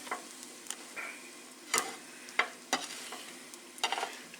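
A ham and egg grilled cheese fries in butter in a pan, giving a soft, steady sizzle with scattered close taps and scrapes from a spatula, fairly quiet and without talk.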